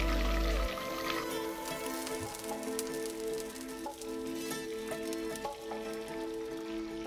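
Chicken katsu, breast and thigh pieces, frying in hot oil with a steady, dense crackling sizzle throughout, close and fairly loud, no voices.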